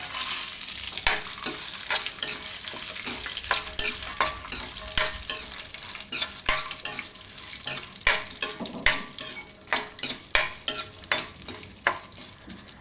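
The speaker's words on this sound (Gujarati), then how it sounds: "ઘીમાં કાજુ થોડાક શેકાવા દેવાના" Cashews are roasted in ghee while being stirred for a Gujarati cashew-raisin pulao, producing a steady sizzle with frequent sharp scraping and clicking strokes of the spoon against the pan, close and continuous, with no talking.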